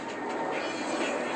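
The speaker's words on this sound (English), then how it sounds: "What's that? An airplane?" A steady, broad roar of an airplane passing far overhead, constant and fairly faint throughout with no other distinct sounds.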